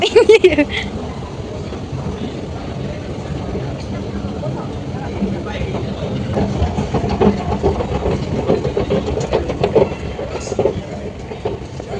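An MRT metro train at Stadium station rumbles and clatters steadily for the whole stretch, loud and close, with faint voices in the background.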